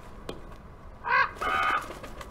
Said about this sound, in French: Qu'est-ce qu'il nous fait, l'oiseau, là?